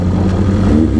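Mercedes E400 convertible fitted with an aftermarket exhaust, its engine giving a deep, heavy, loud rumble that holds steady close by, with no talk over it.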